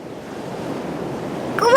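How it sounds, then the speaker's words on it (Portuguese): Sea waves washing in a steady broadband rush, close and continuous, with a faint tonal sound rising near the end. "eu adoro o som do mar"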